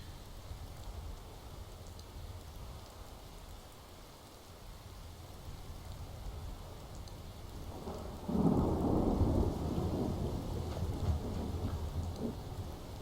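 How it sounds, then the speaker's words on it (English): A thunderstorm with rain in the video game Skyrim: steady rainfall hisses throughout, then a loud rumble of thunder rolls in partway through and lingers under the downpour. "Oh, it's stormy right now."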